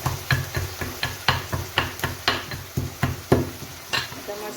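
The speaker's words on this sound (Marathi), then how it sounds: "आता मस्त कांदे छान लाल होईपर्यंत परतते" Onions sautéing in a pan, stirred with a regular rhythmic scraping, about two strokes a second, over a soft frying sizzle heard up close.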